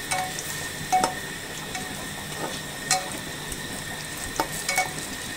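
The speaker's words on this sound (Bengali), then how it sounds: "আমি আর কিছুক্ষণ পেঁয়াজটা ভেজে নেব।" Chopped onions frying in a pan while beef tripe is cooked, giving a faint, steady sizzle with a few sharper clicks of stirring, heard alone without talk.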